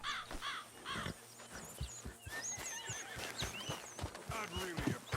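A horse whinnies and snorts amid clip-clopping hooves, with birds cawing and chirping over a busy outdoor background, in the video game Red Dead Redemption.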